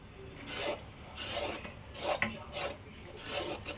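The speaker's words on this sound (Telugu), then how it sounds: "స్పూన్ తీసుకోండి ఫస్ట్ ఇలా గీకండి అప్పుడు ఓన్లీ సన్నం పొట్టు మాత్రమే వస్తుంది" A sharp spoon scrapes the peel off a bottle gourd in a kitchen, making repeated close raspy strokes in an uneven rhythm with short quiet gaps, no voices present.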